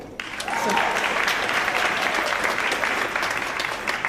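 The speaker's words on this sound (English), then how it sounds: "We'll tell her she was applauded in absentia." Applause rises at a university honors convocation as an audience claps for an award recipient who is not present. It swells quickly after a brief pause into a full, sustained round of many hands that holds steady for several seconds.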